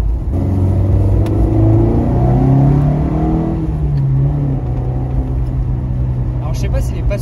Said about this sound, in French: j'ai l'impression d'entendre une Impreza quand j'accélère vraiment comme ça